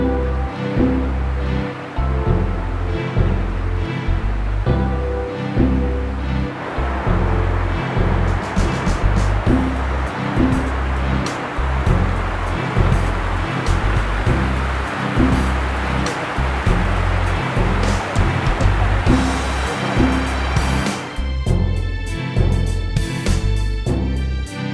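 Creek water in the Great Smoky Mountains rushes steadily close by, a dense unbroken wash of flowing water that stays loud from start to finish.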